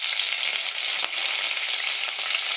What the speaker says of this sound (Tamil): இது எல்லாமே நல்லா பொரிஞ்சு வரட்டும்